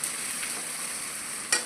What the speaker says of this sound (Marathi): वाटण या तेलामध्ये छान प्रकारे परतून घ्यायचं आहे आपल्याला.